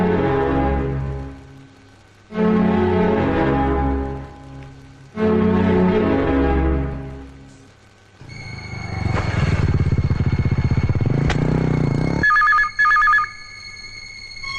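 A telephone rings in a Kannada film scene: three long, loud ring bursts with short gaps, then a stretch of dense noise with steady electronic tones.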